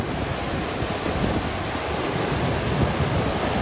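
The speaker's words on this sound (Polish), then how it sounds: "Ale fale są mocne." Strong ocean waves in Hawaii make a loud, steady, broadband roar of surf, mixed with wind buffeting the microphone and with no voices.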